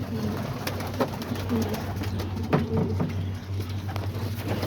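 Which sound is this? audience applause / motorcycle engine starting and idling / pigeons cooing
pigeons cooing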